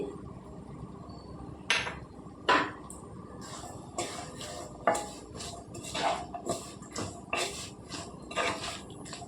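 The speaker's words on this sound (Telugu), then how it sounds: "ముక్కలంతా పట్టేలాగా కలుపుకోవాలండి" Shredded cabbage is stirred with turmeric, salt and onions in a pan, a spoon scraping and knocking against metal in irregular clanks and scrapes, close and clear, with no speech.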